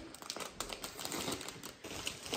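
A plastic bag of salad crinkles and rustles as it is handled close up, a continuous busy crackle with small sharp crunches and no voices.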